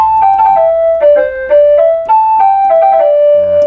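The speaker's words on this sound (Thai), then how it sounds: "ถ้าเปิดมาอีกก็จะเป็นเสียงขลุ่ยที่เราสามารถเล่นโน้ตได้เลย" A synthesized Thai flute melody played on a Pastel Siam Key electric keyboard, a short run of stepwise notes, clear and bright, ending on a held tone.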